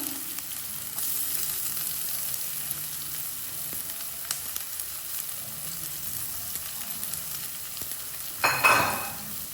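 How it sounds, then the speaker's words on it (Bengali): Green chillies fry in hot oil in a pot over low heat with a steady, close hiss and sizzle, and a brief louder burst of sizzling near the end; no talking. "কিছু হাঁড়ি রাখা করে রাখা কাঁচামরিচ দিয়ে দিলাম"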